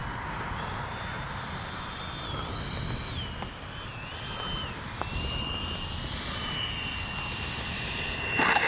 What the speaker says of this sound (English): Great flying, great sounding 70mm. Gear down and ready to land.